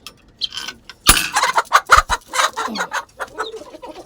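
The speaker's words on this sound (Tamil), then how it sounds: "சோனாலி கோழி கிடச்சிருச்சு பாருங்க, நல்லா வளர்ந்துருச்சுங்க சோனாலி கோழி." Several Sonali chickens cluck and squawk close by in a busy, uneven chorus on a rooftop, with one sharp louder cry near the start.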